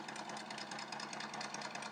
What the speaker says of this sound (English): Just idling his way down.